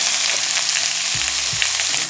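Sausages sizzle steadily in a pan over low heat, a loud, close, continuous frying crackle with no voices.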